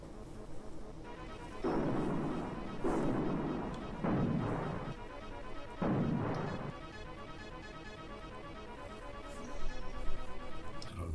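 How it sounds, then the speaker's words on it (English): Bombing of a battleship by an aircraft carrier in the SNES strategy game Super Conflict, four booming blast bursts in a row over a ticking, buzzing game soundtrack. "now I can use the carrier to bomb the hell out of the battleship"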